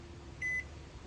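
A microwave oven, used to melt plastic for fishing lures, hums low and steady and briefly falters, with a single sustained electronic beep partway through.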